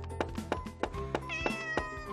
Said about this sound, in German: Oh, die Katze.